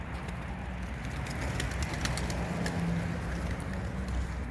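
Homing pigeons coo softly and low over a constant wash of background noise, with faint higher bird calls scattered through.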